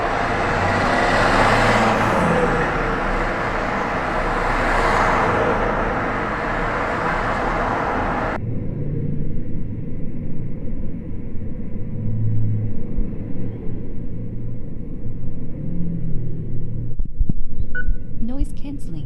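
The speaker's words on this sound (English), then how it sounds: "a sound test in a street with high traffic" Heavy traffic on a busy city street makes a steady low rumble of engines and tyres, loud and broad at first, then dulled to a muffled low drone for the rest, with a few brief clicks near the end.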